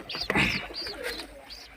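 Pigeons coo in a few soft, repeated calls, close by and moderately loud over a light background hiss, with no talking.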